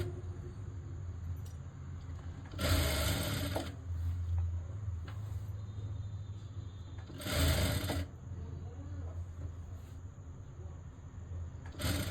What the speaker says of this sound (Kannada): ನೋಡಿ ಈ ರೀತಿ ಸ್ಟಿಚ್ ಮಾಡ್ಕೊಳ್ಳಿ